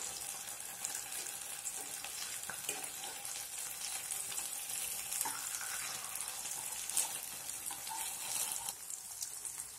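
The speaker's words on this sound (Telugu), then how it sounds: "ఇప్పుడు ఈ పొటాటాని 2 వైపులా తిప్పుతూ ఫ్రై చేసుకుందామండి." Potato pieces fry in a pan with a soft continuous sizzle, and spatula scrapes and taps come now and then as the pieces are turned, close but fairly quiet.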